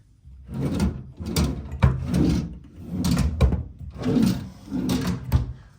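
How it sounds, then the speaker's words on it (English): Wooden study desk drawers are opened and closed in a steady series of about six bumps and slides, each a firm knock with a short scrape, fairly close and with no talking. "All drawers are in full working order."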